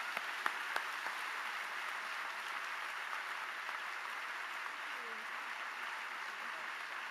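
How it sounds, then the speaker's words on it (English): A university audience at the University of Texas gives sustained applause to welcome speakers to the stage. The dense clapping runs steadily from start to finish at moderate distance, and no one speaks over it. "Please join me with a round of applause"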